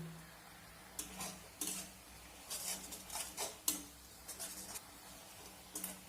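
Spoon scraping and clinking against a pan while stirring a milk filling with crushed cardamom for dudh puli pitha, in a short irregular series of close, moderately loud strokes with quiet gaps.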